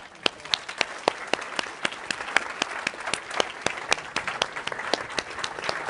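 Applause from an audience at a talk on disability, a dense, fairly quiet patter of many hands with a few sharper claps standing out, heard from some distance.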